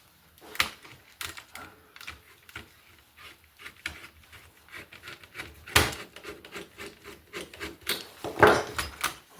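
Screwdriver scraping and clicking against the aluminium heatsink fins of a Nintendo Wii, with irregular close scratches and sharp metallic ticks, louder bursts near the end.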